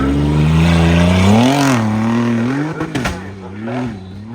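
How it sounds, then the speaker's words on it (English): A two-wheel-drive tuff truck roars as it accelerates on its first race pass, its engine revving loudly with a rising and falling pitch, then dropping into clattering and a lower rumble. "Jason Swaniger out of Mays Lake, Kentucky, in the two-wheel drive class for his first pass. And here we go"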